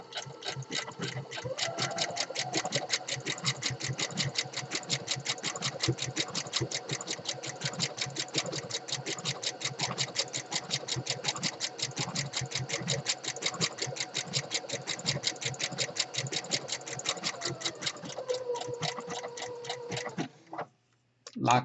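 A sewing machine stitches a hem along the edge of fleece fabric, its needle running in a fast, steady chatter of even ticks for about twenty seconds before it slows and stops.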